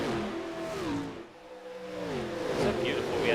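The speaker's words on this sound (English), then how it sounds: "Just listen to these cars go around here in Daytona" Gen 4 NASCAR stock cars race around Daytona during Daytona 500 practice in the iRacing game. High-revving engine tones rise and fall as cars sweep past, with a commentator talking over them.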